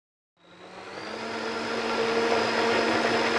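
A blender starts up mixing a protein smoothie with chia seeds, its motor whirring in close and rising quickly to a loud, steady grinding roar that holds to the end.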